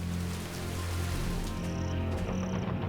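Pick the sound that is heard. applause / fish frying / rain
rain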